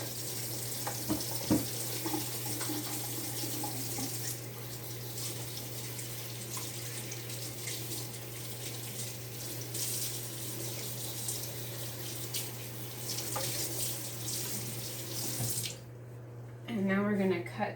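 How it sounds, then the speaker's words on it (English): Kitchen tap water running steadily while a knife and hands are rinsed during salsa prep with pineapple, a close continuous hiss that stops near the end, followed by a brief clatter. "I'm gonna rinse my knife and my hands."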